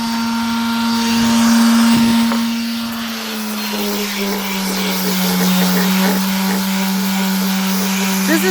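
A power tool grinds rust off a steel rail piece, a steady droning whine close by whose pitch dips slightly partway through, with faint scraping over it and no talk.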